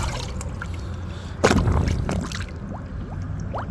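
A tire and wheel plunged into water, a sudden splash and sloshing surge followed by small gurgles and drips, close and fairly quiet, with no talk.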